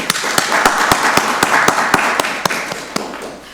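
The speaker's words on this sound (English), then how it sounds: "Give them another round of applause." Applause at a county board of commissioners meeting, sharp close claps in a loosely steady rhythm of roughly a dozen beats over a fainter bed of scattered clapping.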